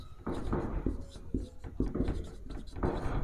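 Chalk or marker scratching across a board in short, dense strokes during a lesson on animal diseases, close and fairly loud, with a voice speaking over part of it.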